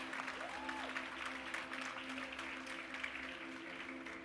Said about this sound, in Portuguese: Aplauda ele em nome de Jesus